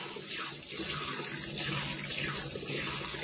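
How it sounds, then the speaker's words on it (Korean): Running tap water pours steadily over maesaengi seaweed held in a strainer while it is rinsed, a close, continuous splashing rush with gentle swells as the seaweed is moved under the stream. "채반에 매생이를 이렇게 받쳐주세요. 그리고 여러 번 헹궈줍니다."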